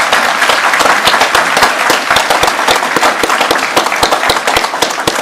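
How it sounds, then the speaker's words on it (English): Families at the Tar River Academy 2022 graduation give loud, dense applause, with sharp individual claps standing out close by in a continuous roar of clapping. "Families, could you please chime in and give them a round of applause"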